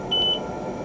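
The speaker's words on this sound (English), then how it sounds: "You'll hear the beep." A single short electronic beep from an Xtool S1 laser cutter during marking, a clean steady tone lasting a fraction of a second over faint background hum.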